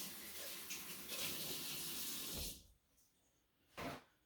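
Kitchen tap water runs steadily as measuring utensils are rinsed before making a Thanksgiving dish, a loud broadband rush lasting about two and a half seconds, then cutting off, with a brief splash or clatter afterward.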